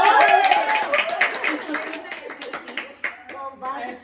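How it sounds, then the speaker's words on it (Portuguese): Applause welcoming a guest introduced as Santa Margarida Maria Alacoque: a short burst of rapid clapping that fades out, with voices over it. "uma salva de palmas para nossa convidada de hoje, Santa Margarida Maria"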